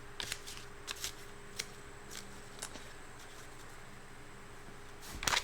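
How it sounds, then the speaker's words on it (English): Rider-Waite tarot cards being shuffled by hand in quiet, close, light riffling bursts with pauses between them, ending in a louder flurry of shuffling. "Let me just shuffle the cards here a little bit."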